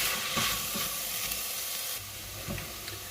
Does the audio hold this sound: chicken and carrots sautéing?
yes